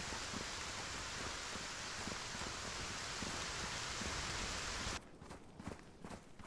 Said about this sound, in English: I love the way the rain just switches on and switches off.